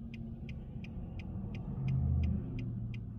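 A car idles on a roadside during a winter drive, its low steady rumble swelling briefly as a heavier engine sound passes close by, with a faint regular ticking repeating throughout.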